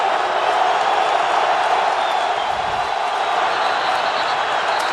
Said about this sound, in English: So the crowd's response was just get louder.